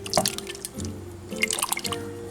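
Water pours and splashes into a pot of homemade hamburger stew, a short run of close, bubbly drips and sloshes with brief gaps.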